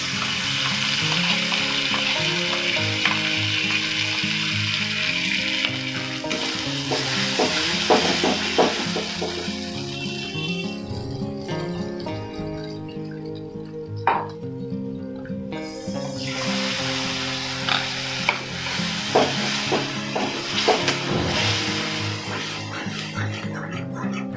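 A pan of rohu poppy seed curry sizzles and fries steadily as a paste of ground cashew and poppy seed goes in, with stirring clatter and background music running throughout.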